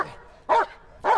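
A police K-9 dog barks twice, sharp and loud and close, spaced about half a second apart, during a building search training.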